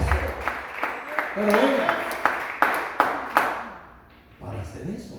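A church congregation clapping their hands as an offering to Jesus, with steady rhythmic claps that echo in the room while someone speaks over them.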